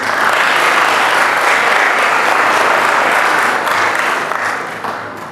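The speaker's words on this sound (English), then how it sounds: "can you please give our teachers a nice round of applause?" A loud, sustained round of applause from students and families for teachers at an 8th grade recognition ceremony, dense clapping that holds steady before tapering off at the end.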